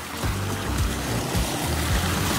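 A clean river flows steadily past a flooded home's surroundings, a continuous close rushing wash of water with low churning surges, heard alone without any talking.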